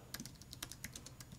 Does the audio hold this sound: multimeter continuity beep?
no